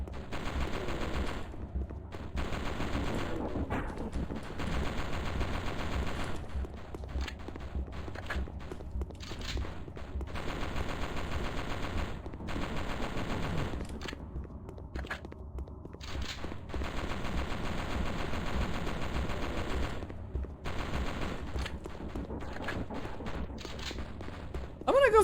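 Gunfire from a horror-style game on a PS1 demo disc, with dense bursts of automatic shots and scattered single cracks repeating steadily through the whole stretch, loud and continuous over a low background rumble.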